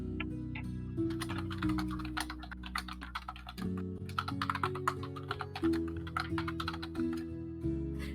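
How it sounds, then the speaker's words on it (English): Steady, clicky typing on a computer keyboard during a tabletop role-playing session, rapid irregular keystrokes close to the microphone over faint background music, with no talk. "I love just hearing his silence and typing. Yeah, clicky clacky."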